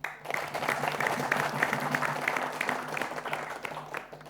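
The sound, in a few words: applause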